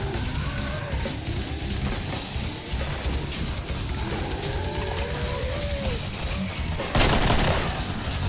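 Rapid, overlapping gunfire from the video game Killing Floor rattles on continuously as a busy fusillade, with a louder burst near the end and faint voices mixed in under the shooting.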